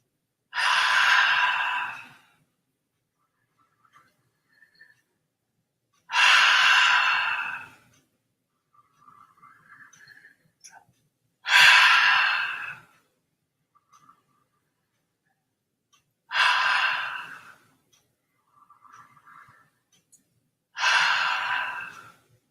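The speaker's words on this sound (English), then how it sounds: "Slow, deliberate, deep breath. Stay with the breath. Feel the air coming in and going out." Slow, deep breaths during a morning breathing exercise: five long, airy exhalations, each lasting about two seconds, are separated by quiet pauses. They are close and clear, with no talking.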